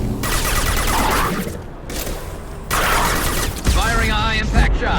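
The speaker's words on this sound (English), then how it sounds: "Firing a high-impact shot." Bursts of weapon fire from a firefight in Mass Effect 2, loud and close in short clusters separated by brief gaps, with a voice talking over the shooting.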